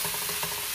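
Onion and tomato sautéing in a pan, a steady sizzle broken by a few soft scrapes of stirring, heard close and with no talk.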